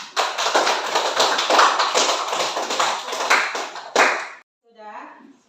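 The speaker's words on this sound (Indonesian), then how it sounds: "Tepuk tangan." Hand clapping from a classroom of students, a dense run of claps close by lasting about four seconds before stopping abruptly, with a voice speaking briefly after.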